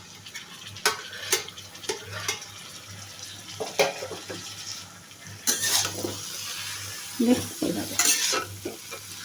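A pan of cabbage with tangra fish is stirred in repeated scraping strokes over a steady sizzle, with a brief spoken word in between.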